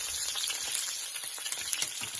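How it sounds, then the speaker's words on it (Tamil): Fennel seeds, cumin, coriander and dried chillies fry in hot oil with a steady, close sizzle and crackle, a few small spits and pops standing out throughout. "பெருஞ்சீரகம், அதோட கூட சின்ன சீரகம், அதுக்கு பிறகு கொஞ்சமா மல்லி, செத்தல் மிளகாய், அதோட கூட எல்லாம் போட்டு ஃப்ரை பண்றேன் பாருங்க"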